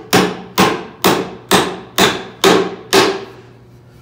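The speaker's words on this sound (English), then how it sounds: "now we just need to rivet these two together, and we're gonna just use a riveting hammer" A riveting hammer strikes metal rivets to join parts of a river table: seven sharp, evenly spaced hammer blows about half a second apart, loud and close, each ringing briefly before the next.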